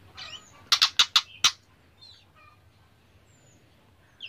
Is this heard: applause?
no